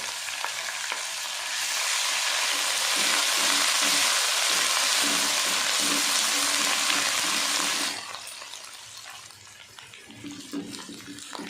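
Ginger, garlic and green chili sizzle loudly in hot oil, a sharp hiss that swells and then settles lower, with faint stirring clinks underneath.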